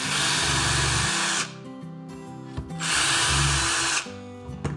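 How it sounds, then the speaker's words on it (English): A small power drill with a 1/16-inch bit whirs at high speed in two bursts while drilling hinge holes, a brief pause between them, close and loud. "So I got my 1/16 inch drill bit, and we're gonna go ahead and drill those holes."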